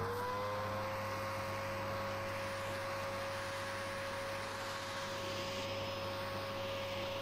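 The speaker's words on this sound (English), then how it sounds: "The ultimate vacuum." A vacuum cleaner runs continuously with a steady whine and low hum, its motor pitch rising slightly at the start, fairly close.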